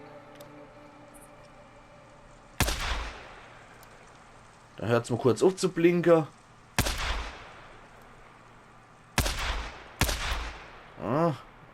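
Game gunfire from Days Gone, sharp single shots fired at lamps with short gaps between them, with someone talking in German in between.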